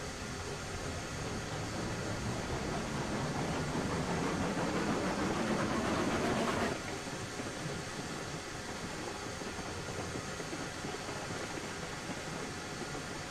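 Train wagons roll along rails in the railway simulation game Railroads Online, giving a steady, dense rumbling hiss that swells slightly before easing to a flatter, continuous roll.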